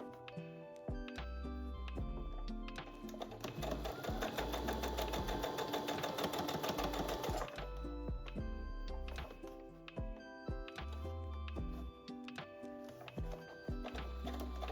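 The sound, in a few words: sewing machine sewing the skirt yoke edge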